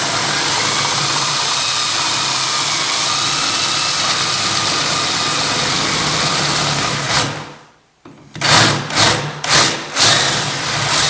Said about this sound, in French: Je mets mon forêt de 13, mais je pense que ça va être un poil juste.